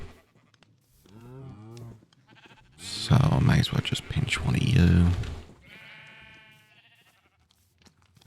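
Sheep bleat several times in a Minecraft-style modded game, short wavering cries rising in the middle of the stretch and again near the end, mixed with someone talking over them.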